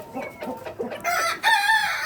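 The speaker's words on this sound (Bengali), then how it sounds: "ওই পাশ থেকে সিল্কি মুরগিগুলি খাচ্ছে, এই পাশ থেকে ব্রাহ্মাগুলিও খাচ্ছে" Silkie and Brahma chickens on a farm cluck in short repeated calls while feeding, with louder, higher calls building toward the end; nearby and clear, no talk.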